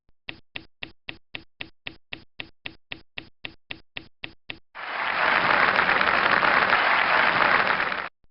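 Language course software plays an applause sound effect: about fifteen evenly spaced, crisp single claps, then a sudden burst of full, dense crowd applause that holds steady for several seconds and cuts off.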